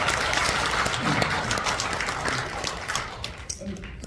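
An audience at a patriotic political rally applauds together, a dense burst of clapping that starts loud and gradually thins and fades over a few seconds.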